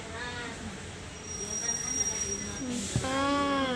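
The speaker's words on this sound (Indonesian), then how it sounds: "Seneng lihat kereta api." A train rumbles past at moderate distance in Sumatra, Indonesia, wheels clattering with a high metallic squeal rising over the steady roar.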